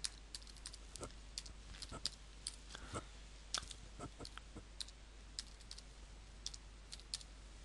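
Quiet, irregular clicking of keys on a computer keyboard as a password is entered, close and soft over a low steady hum, with bursts of quick taps and brief pauses.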